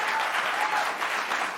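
A television studio audience claps for the Chicago Police Department, a brief, full round of applause that stays dense and steady throughout.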